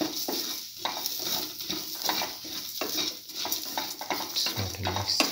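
Chickpea coconut tamarind rice is stirred with salt in a pan, giving repeated scraping strokes in an uneven rhythm over a light sizzle, close by.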